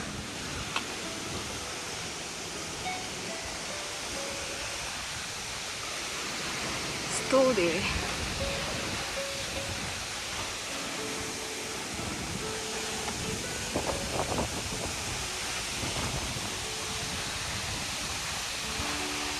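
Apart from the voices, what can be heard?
water falling at Phangphangden waterfall, East Nepal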